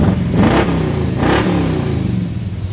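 A loud 1986 Chevrolet C10 pickup truck engine revving close by, two rising throttle blips over a deep rumbling idle that then settles back down.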